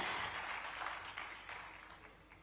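Audience applause fills the hall at an International Biodiversity Day event at the Indian Institute of Forest Management, Bhopal, a steady wash of many hands clapping that slowly fades, with no talk.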